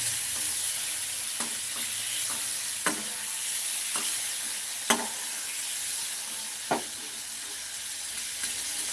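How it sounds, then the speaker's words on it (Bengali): Shrimp sizzling and frying in hot oil in a pan, a steady crackle with a few sharp scrapes as the pieces are stirred, close and continuous with no talk. "চিংড়ি মাছ বেশি ভাজতে নেই তাই আমি অল্প একটু নেড়ে ছেড়েই তুলে নেব"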